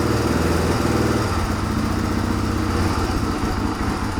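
A dirt bike engine, just repaired after its carburetor leaked fuel, idles loud and close with a steady rapid putter and slight unevenness, running on its own without choke.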